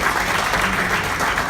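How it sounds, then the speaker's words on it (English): Audience applause at a seminar, a dense, even burst of many hands clapping at a steady level throughout. "Let's give our assistants a round of applause."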